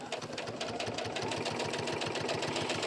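A sewing machine stitches a quarter-inch turned-under hem in waterproof fabric, giving a fast, even mechanical chatter close by with no voices.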